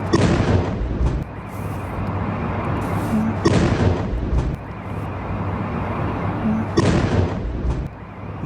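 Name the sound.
explosions from Russian ballistic missile attack on Kyiv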